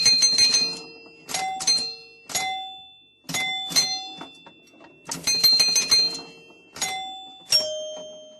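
A bright notification bell sound effect rings repeatedly, clear metallic dings in quick clusters separated by short pauses, loud and alone.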